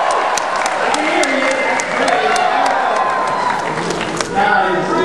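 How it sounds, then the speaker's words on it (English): A large, enthusiastic crowd at a political speech applauds and cheers with dense continuous clapping, whoops and shouts, fairly loud and sustained throughout, while voices call out within it. "It's really wonderful to see such a nice, enthusiastic crowd."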